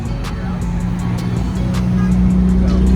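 An E92 camera car with a full rig drives by at a race track, a loud steady engine drone that swells slightly toward the end, with faint ticking clicks along the way.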